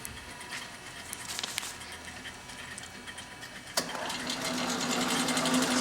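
An EWAG RS2 radius and tangent grinder runs with its oscillation engaged, a close mechanical whir with light rhythmic ticking that jumps louder after a sharp click partway through and stays steady to the end.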